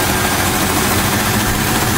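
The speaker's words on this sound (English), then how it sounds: "Otherwise, this engine runs perfectly." A 1995 Chevy S10 pickup with about 178,000 miles idles steadily, its fan rubbing against the shroud. The engine gives a loud, continuous rumble close by, with no talking.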